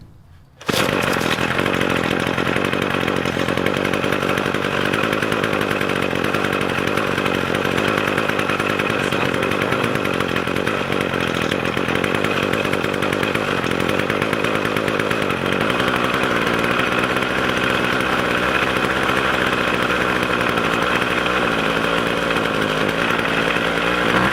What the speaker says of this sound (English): This is what the engine was sounding like before I fixed it.